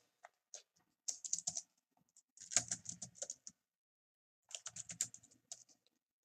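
Typing on a computer keyboard while writing Java code, several quick bursts of crisp key clicks separated by short pauses, close and alone with no talking.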